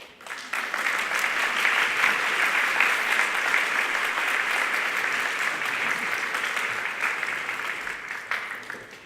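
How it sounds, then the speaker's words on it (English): Sustained applause from a banquet audience at a university student awards event greets a scholarship recipient, a full, even wash of many hands clapping that swells quickly, holds for several seconds, then tapers off. "Let's give him a round of applause."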